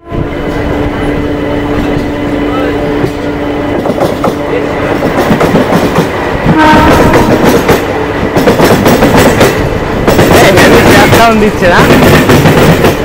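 A local train pulls out of Barasat Junction toward Bongaon, a steady rumble giving way to louder rhythmic clickety-clack of wheels over rail joints, close and loud, with brief speech from a person.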